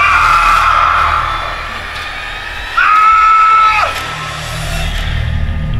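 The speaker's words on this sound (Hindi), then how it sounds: "जैसे ही राहुल ने उस तरफ देखा तो डर से उसकी चीख निकल गई।" A man's frightened scream in a Hindi horror story comes in two shrill, wavering bursts, the second ending in a falling wail, loud over a low, rumbling background.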